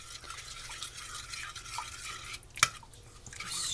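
A whisk stirs chicken broth into a roux for gravy, making soft, wet, liquid swishing and light dripping at low volume, with one sharp clink of metal near the end and no talk.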